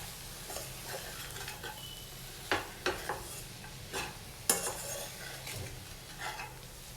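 Amaranth-leaf and egg fry being mixed with spice powder in an oily pan: a soft sizzle under a few sharp spoon clinks and scrapes against the pan, close by and fairly quiet.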